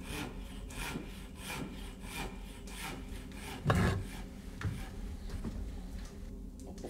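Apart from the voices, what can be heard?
hand sawing wood with long saw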